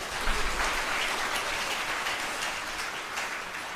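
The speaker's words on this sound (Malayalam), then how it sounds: "അമ്മയ്ക്ക് നന്ദി പറഞ്ഞുകൊണ്ട് കൈയടിച്ചുകൊണ്ട് ശ്രദ്ധിക്കട്ടെ" A church congregation at a live Kreupasanam prayer service claps together in a broad, steady wash that holds at an even level, with one brief louder burst near the start.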